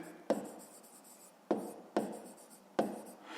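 A pen writes on paper while working a fifth-grade math exercise, four distinct strokes each starting with a sharp touch and trailing into a soft scratch, close up and quiet with no voices.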